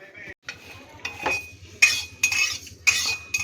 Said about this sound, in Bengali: এইভাবে আমি সব আলুগুলো কেটে নেব